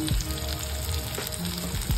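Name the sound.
onion, coconut and coriander seeds frying for masala paste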